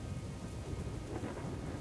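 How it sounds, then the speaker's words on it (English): A rain and thunder ambience effect, with a steady dense hiss of rainfall over a low rumble of thunder, continuous and fairly quiet, with no voices. "You go out into the rain"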